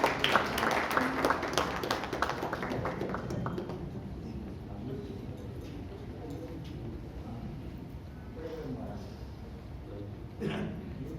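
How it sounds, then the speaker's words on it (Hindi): Audience applause at a Jain poets' gathering in Raipur, Chhattisgarh, honouring Lunavat ji: dense clapping loudest over the first few seconds, then thinning to a softer, steady patter with a brief swell near the end. "जैन दुपट्टा और प्रतीक चिन्ह देकर जोरदार तालियां लूनावत जी के लिए।"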